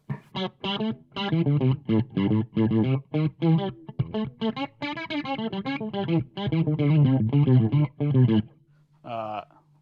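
An electric guitar plays a quick melodic phrase through overdrive and vibrato pedals, with a wavering vibrato, close and clear, ending with a brief sustained note.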